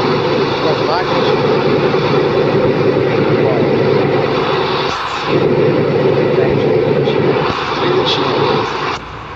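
A truck engine revs and accelerates hard in a steady, loud drone that dips briefly twice, with a voice speaking over the engine noise.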